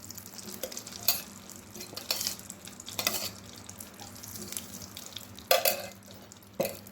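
Ghee heating in a kadai over a medium gas flame while sweets are being made: soft low sizzle under several sharp scraping and stirring clatters, fairly quiet and close.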